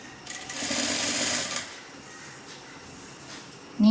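A sewing machine runs steadily stitching along a folded half-inch fabric edge of a layered gathered maxi dress, a continuous whirring drone that eases slightly after the first second and a half.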